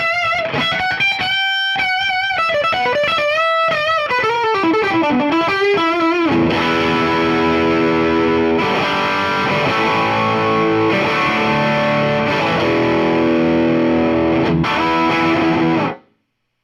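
Loud overdriven Fender Custom Shop Stratocaster on its bridge pickup, through a hot amp, plays ringing notes, then heavy distorted chords that sustain and stop abruptly at the end.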